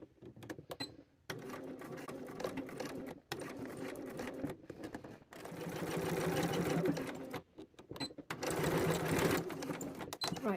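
Sewing machine stitching down a shirt sleeve placket along a cuff, running in several close, steady bursts of rapid whirring separated by short pauses.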